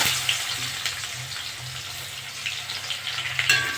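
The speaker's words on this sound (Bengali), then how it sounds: "ওই তেলে আমি পেঁয়াজ দিয়ে দেবো।" Onions frying in leftover oil after tilapia has been fried, a steady close-up sizzle and crackle that runs throughout, with a low hum underneath.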